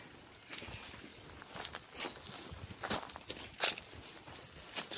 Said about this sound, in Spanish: Sonidos pájaros, zarzas pisadas.